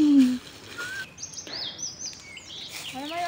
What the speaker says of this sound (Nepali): चराको आवाज सुन्नु भएको होला नि।